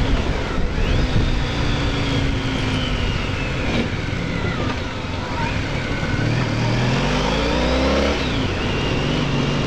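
A white van driving past a cyclist on a road commute: steady, loud engine and tyre roar over wind noise, with rising and falling engine tones as the vehicle passes close by.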